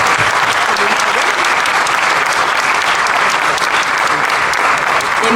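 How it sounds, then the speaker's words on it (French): An audience at a Disneyland Paris event applauds loudly and continuously, a dense steady clapping with no pauses. "On les applaudit bien fort."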